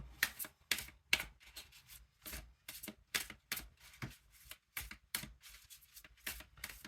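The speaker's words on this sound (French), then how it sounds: "On va prendre une autre carte." Tarot cards riffled and drawn in a quiet room: repeated short, crisp papery bursts of shuffling with brief pauses between them, close and alone.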